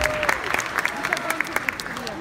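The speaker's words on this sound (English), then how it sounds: "A round of applause for India Republic Day." Applause at a Republic Day event at a center in Saratoga, with sparse individual claps over a crowd murmur and voices talking underneath.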